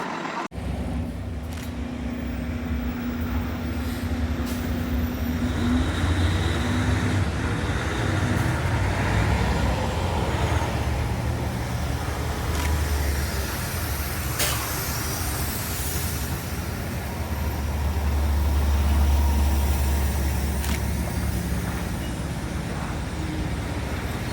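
Heavy street traffic on 40th Street in New York City, with NJ Transit buses idling and moving amid cars, a steady loud roar with a deeper engine swell near the end and no talk.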